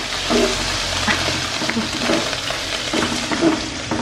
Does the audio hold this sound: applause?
no